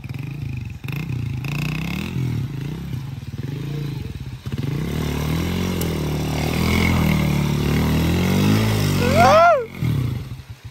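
A motorcycle engine rumbles steadily nearby, its pitch rising and falling with revs, ending in a sharp high whine near the end.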